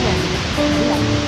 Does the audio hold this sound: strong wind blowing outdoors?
yes